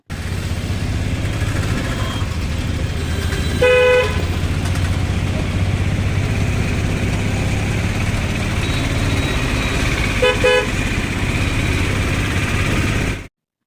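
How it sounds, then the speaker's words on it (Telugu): An auto rickshaw ride in Vizag, with a steady engine drone and road noise throughout, broken by two short horn toots, one early and one near the end. "ఆటో అయితే ఎక్కేసామండి అక్కడ వెయిట్ చేసాం కొద్దిసేపు వెయిట్ చేసిన తర్వాత ఆటో ఎక్కేసాము"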